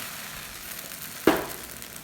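Thai pancake batter drops onto a hot pan with one sudden close hiss that fades quickly into a soft steady frying sizzle, above low background noise.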